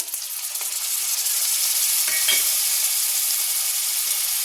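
Onion paste with ginger-garlic paste frying in a pan, tomato paste just added, giving a steady, close hiss of sizzling oil that settles in after a quieter first second, with a couple of soft stirring scrapes.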